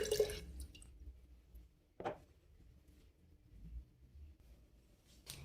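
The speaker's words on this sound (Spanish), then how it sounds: "Agrega el jugo de un limón y verás cómo cambia ligeramente de color." Lemon juice drips into a rose petal infusion, a few faint, isolated drops and small splashes spaced apart over a quiet background.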